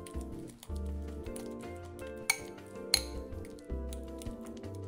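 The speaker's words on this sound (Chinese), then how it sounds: "再用叉子压成细腻泥状，不用搅拌器打到成糊，压成略带颗粒状" A fork mashes salted food into a coarse purée in a bowl, giving two sharp clinks against the bowl and softer scraping over a steady musical background.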